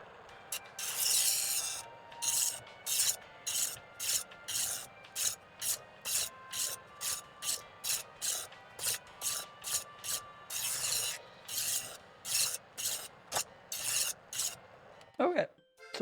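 A knife is drawn through a Chef'sChoice 15XV electric knife sharpener, giving a long series of short, bright grinding rasps in a regular rhythm over a low motor hum, ending with a brief clatter.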